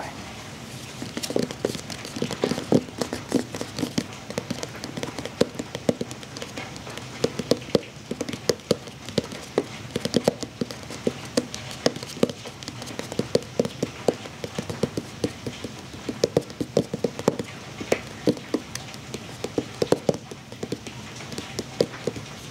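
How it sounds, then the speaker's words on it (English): Fingers tapping sporadically on a Meta Quest cardboard box, close and crisp, with irregular clusters of light taps in a rain-like patter that continues throughout, with soft rain in the background. "my goal with some of the tapping right now is try to make it a little sporadic. Try to emulate some of the sound of the rain falling."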